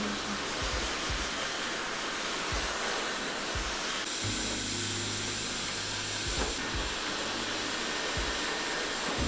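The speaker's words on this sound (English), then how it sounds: "Now she's blow drying my hair very meticulously" A hair dryer blows steadily at a head spa in Los Angeles, a constant airy hiss close by with brief shifts in pitch as it moves around the hair.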